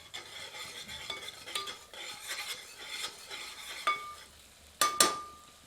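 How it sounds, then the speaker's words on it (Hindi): A ladle stirs butter chicken kofta curry in a pot, soft scraping and sloshing strokes with occasional metallic clinks, one sharp louder knock near the end, close and clear without speech. "एक बार अच्छी तरह करछी चलाते हैं।"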